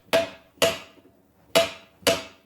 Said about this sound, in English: Annealed copper sounds softer when struck.